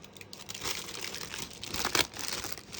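A roll of My Creative Spirit Signature black construction tape, used for building chipboard and MDF pieces, is handled with close crinkling and crumpling rustles that continue throughout, with a few sharper crackles.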